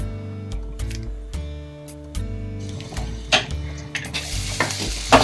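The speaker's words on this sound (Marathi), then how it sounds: "चिकन छान परतलं आहे" Chicken stirred and sautéed in a pan for sukka chicken, with repeated scraping and clicking of the spoon over a soft sizzle and a tonal background underneath.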